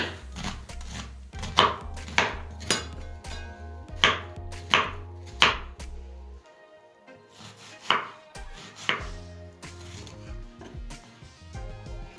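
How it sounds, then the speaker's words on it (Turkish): Large rings of onion chopped with a knife on a cutting board for a meat-and-bulgur stuffed cabbage roll dish: a close series of crisp, evenly spaced chops, then a brief pause and a few more scattered cuts, with no talking. "Soğanlarımı da iri halkalar halinde çekeceğim."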